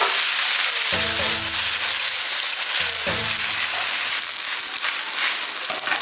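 Cabbage stir-fried over high heat in a wok with garlic slices, a loud, steady sizzle and crackle throughout, broken by two ringing metallic clangs of the wok or lid near the start and middle.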